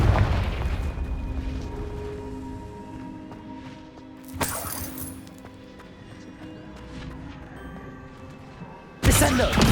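A Confringo spell explosion in Hogwarts Legacy: a heavy boom at the start fading out, a sharper blast partway through, then a sudden loud burst at the end, with rumbling game sounds between.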